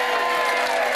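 Studio audience applause on a television show, a steady wash of clapping that holds at an even level through the short stretch.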